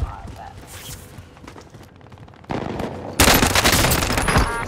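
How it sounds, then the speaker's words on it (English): Gunfire aimed at the player in a video game: dense bursts of shots that grow louder and heavier partway through, ending in sustained loud firing, with speech mixed in. "Shooting at me!"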